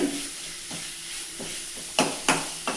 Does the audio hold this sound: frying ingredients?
yes